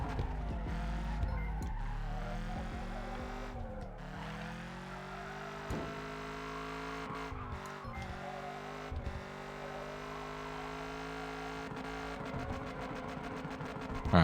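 A car engine drones steadily in a drifting video game with a freshly upgraded steering setup, holding a continuous hum with small revving swells throughout and no talk over it.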